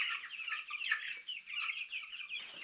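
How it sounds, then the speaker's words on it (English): Cornish Cross meat chickens cluck and peep steadily in a brooder, a close, busy chorus of overlapping calls with no talking. "So the meat chickens are in their new home."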